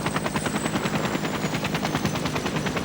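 A US Navy helicopter at a refueling depot in Antarctica beats steadily and loudly with rapid, even rotor chops, close and continuous with no voices.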